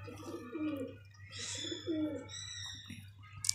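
Pigeons coo in soft, low, rolling phrases, repeated a few times over a steady hum, with faint chirps from other birds higher up.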